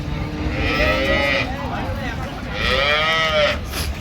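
A dairy cow with her four-day-old calf moos repeatedly at Raniganj cattle market in Dinajpur, two long drawn-out calls over a busy crowd murmur.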